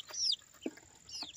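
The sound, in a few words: rooster and chickens clucking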